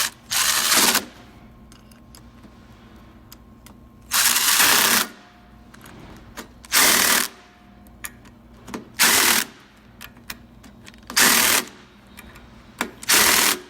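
An impact wrench hammers a nut up tight on a Mud Buddy outboard lower unit, firing in about six loud, short bursts separated by quiet pauses, with no talking.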